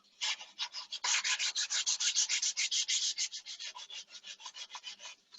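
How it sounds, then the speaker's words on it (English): Hand sanding with 320 grit sandpaper, quick rhythmic back-and-forth rasping strokes, close and steady, about two dozen passes with no talking. "basically done with the sanding"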